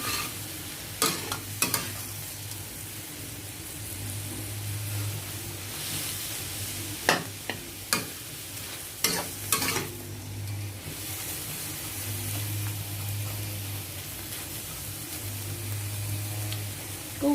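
A large onion stir-fried in a pan sizzles steadily, with a spatula scraping and knocking against the pan in several bursts.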